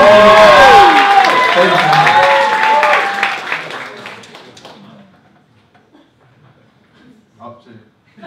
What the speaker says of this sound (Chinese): 再次掌声！